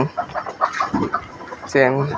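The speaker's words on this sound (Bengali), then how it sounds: "এই যে হচ্ছে আমার গলাশিলা মুরগি, দেখতেই পাচ্ছেন" A naked-neck chicken clucks in short bursts near the end, preceded by scattered soft farmyard noises and some faint voices.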